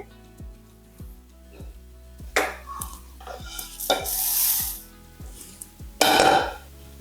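Toor dal and urad dal dry-roast in a pan, with a steady rhythm of spoon scrapes and several louder bursts of rattling, sizzling grains.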